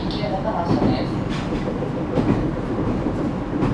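An Echigo TOKImeki Railway ET127 series train with Toyo GTO-VVVF drive running on rails, a loud, steady rumble and rattle of wheels and car body from on board, with a faint whine and some talk underneath.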